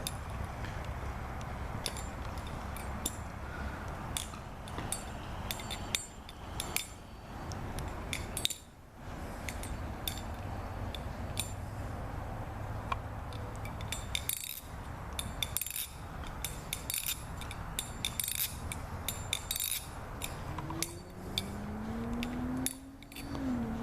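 A Tsunami clone balisong trainer flipped continuously, rapid light metallic clicks and rattles in quick irregular runs, close up with no talking.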